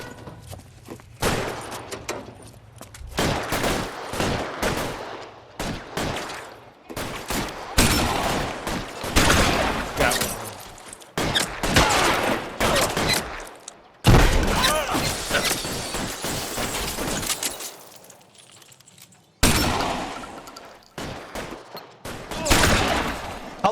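Heavy gunfire from a shootout with police in L.A. Noire, with dense bursts of rapid shots and crashes that go on almost without a break and are loud and close, and some voices come through now and then.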